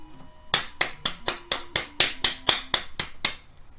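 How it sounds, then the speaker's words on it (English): Roughly a dozen sharp hand claps land at an even, brisk rhythm, loud and close, over faint background game music. "A clap there, not a fucking high five"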